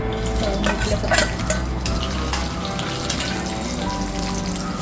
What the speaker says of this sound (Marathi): आता आपण ड्रायफ्रूट भाजून घेऊया